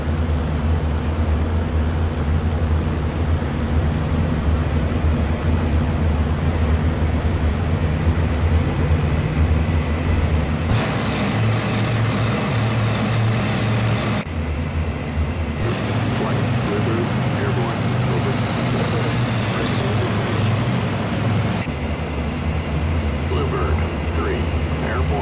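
Twin-engine P-38 Lightning fighter in the IL-2 Sturmovik flight simulator taking off, a steady loud engine roar with broadband rushing noise throughout, and radio voices talking over it.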